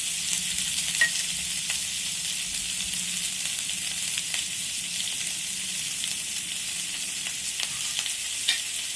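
Turmeric sizzles in oil in a frying pan while a spoon stirs, for chole pulao; a steady broadband frying hiss runs throughout with faint scraping ticks, no voices.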